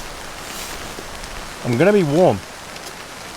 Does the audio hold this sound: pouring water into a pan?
no